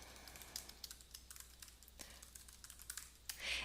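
Quiet typing on a computer keyboard: irregular light key taps in steady clusters, close and soft, with no talk over them.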